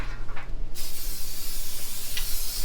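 An aerosol can of cooking spray hisses into a 9x9 aluminum foil pan in one loud, close, steady burst that starts abruptly and continues to the end.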